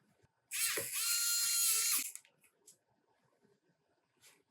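A small electric screwdriver drives screws back into a Lenovo Yoga 730 laptop during a battery replacement, a single loud high whir of about a second and a half, then light clicks and handling noise nearby.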